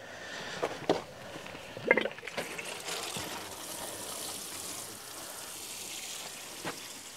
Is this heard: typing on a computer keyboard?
no